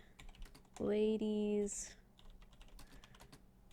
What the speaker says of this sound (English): Is my typing giving you anxiety?